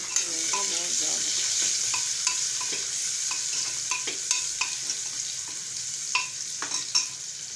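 Cumin seeds sizzling in hot oil for a dal tempering, a steady bright frying hiss with scattered sharp pops and spatters, close up, and no voices.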